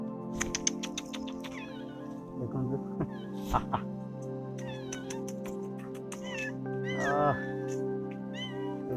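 A cat meows repeatedly in short, high, wavering cries, close by, while a person speaks in the background.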